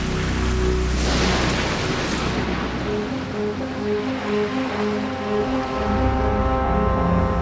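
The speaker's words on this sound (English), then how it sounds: "changing weather patterns are already creating more torrential rains that result in sudden flooding" Torrential rain pours down in a dense, loud, continuous roar, with a tonal hum running underneath throughout.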